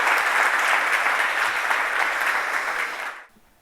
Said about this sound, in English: a huge round of applause to welcome to the stage Jason Sundorkar